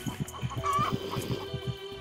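A chicken with a zombie riding it in the Minecraft video game clucks in short, regular bursts, close and fairly clear over a low game background.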